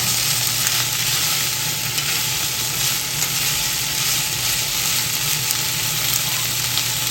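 Fried tofu and warabi fern fry in a pan with bacon, making a loud, continuous, close sizzle that stays even from start to finish, with no speech over it.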